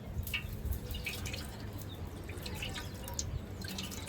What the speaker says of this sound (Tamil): இப்போ நெய் ஊற்றிக்கலாம்.